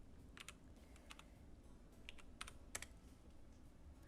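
Quick bursts of keystrokes clatter on a computer keyboard during a live art commission stream, clustered in short irregular runs over a low, steady room hum.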